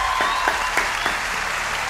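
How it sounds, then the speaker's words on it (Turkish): Applause from a talent show audience, dense, steady clapping over two seconds with a few sharper claps standing out near the front and no talking. "Ben alkışlıyorum."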